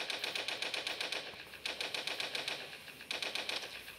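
Rapid automatic gunfire from the mobile game Toilet Monster: Hide N Seek, in three loud bursts of fast, evenly spaced shots with short breaks between them and no talking.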